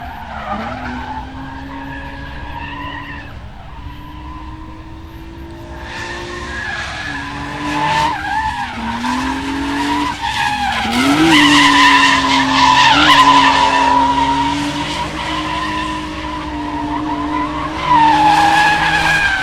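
A drift car at Meremere Drift Park, its driver staying on the gas, with loud sustained tyre skidding and an engine revving and wailing, rising and falling in pitch and building in intensity over the run.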